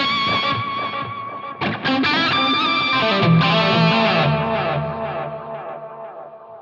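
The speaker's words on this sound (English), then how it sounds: "extremely wet, overly wet, lots of reverb, lots of delay" An electric guitar played through a Line 6 Helix with heavy reverb and delay rings out as loud, washed-out sustained chords whose echoing tails blur together, alone with no talking.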